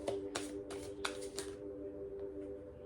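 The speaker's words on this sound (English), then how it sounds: "Oh, 2 cards fell out. Fell right in my lap." A deck of tarot cards being shuffled by hand, a few quick riffling bursts in close succession, close and soft, then stillness.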